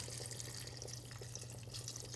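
Water pours into a measuring vessel for soup, a faint steady trickle with a low hum underneath, continuous for a couple of seconds.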